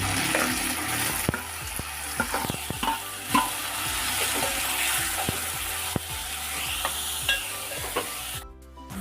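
Tomatoes with curry leaves frying for egg curry, a continuous close sizzle with frequent sharp spoon scrapes and stirs against the pan, ending abruptly.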